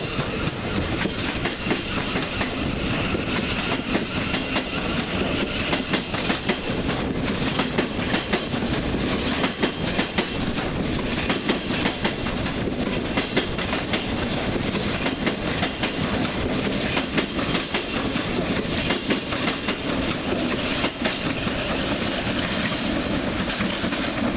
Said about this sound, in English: Next train out is 700 149 with the 1413 Govia Thameslink service to Cambridge via London St Pancras International.